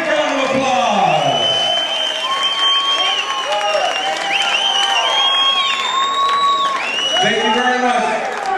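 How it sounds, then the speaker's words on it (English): Loud, steady crowd applause and cheering at an amateur fight night ring for middleweight and women's lightweight belt champions, with whoops and shouting voices throughout and someone talking over it. "Let's give them a big round of applause."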